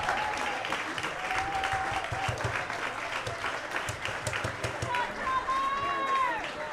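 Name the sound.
applause from baseball game crowd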